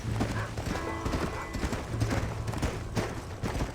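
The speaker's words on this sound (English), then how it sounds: "Ah, I hear these horses again." Horses in the Red Dead Redemption video game, with steady hooves clip-clopping close by through the whole stretch and occasional whinnies rising over a busy game soundscape.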